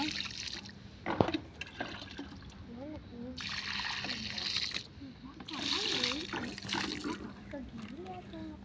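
Water is poured onto freshly planted mint in soil, giving an uneven stream of splashing and trickling in bursts, heard under ongoing talking.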